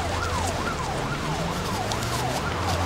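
An ambulance siren wails up and down in a steady repeating sweep, loud and close, over the rumble of road traffic.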